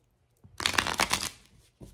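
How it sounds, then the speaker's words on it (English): A brief, close riffle of tarot cards being shuffled, a quick papery burst lasting under a second, then a soft tap. "Let me do one more good shuffle."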